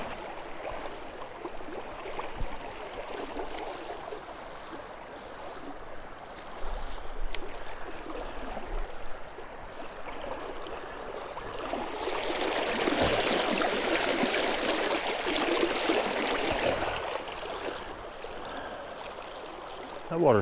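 Swift, cold water of the upper Rappahannock River rushes steadily during a smallmouth fishing outing, a broad continuous wash that swells louder in the middle stretch and stays close throughout.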